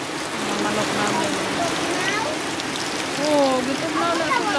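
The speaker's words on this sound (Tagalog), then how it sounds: "Mga isang oras na pala yung ulan." Heavy rain pours steadily onto rice paddies, a dense continuous hiss of drops close by with faint bird-like chirps and other sounds threaded through it.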